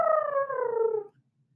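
A person imitates an elephant trumpeting with one sustained, slightly falling vocal blast lasting about a second, close and fairly loud, then silence.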